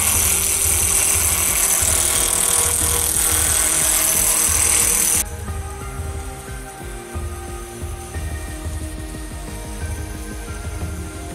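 A lathe turns a chess pawn prototype with a loud, rough grinding roar that drops abruptly to a quieter, uneven cutting rumble partway through, with no talking.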